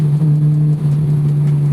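Honda S2000 engine holding steady high revs while driving, a loud continuous drone with a strong low hum that stays even throughout, no voices present.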